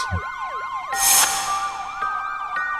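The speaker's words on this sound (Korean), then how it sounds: "우리 동네 경찰차랑 구급차가 몰려온 거야" A police car and an ambulance wail nearby, one siren sweeping up and down in fast cycles while another holds a steadier tone, loud and continuous.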